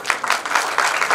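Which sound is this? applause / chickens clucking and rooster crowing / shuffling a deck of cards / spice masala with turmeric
applause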